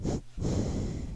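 Two sharp belly breaths, quick forceful nasal exhales or snorts separated by a brief pause, close and fairly quiet during a plank exercise.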